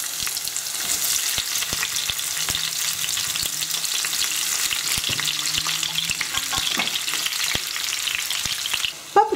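Chopped bell peppers for lecsó sizzle steadily in a hot pan, with occasional scrapes and taps of a utensil stirring them.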